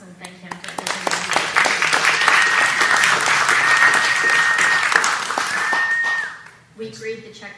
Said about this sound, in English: So I thought it was worthwhile to give him a round of applause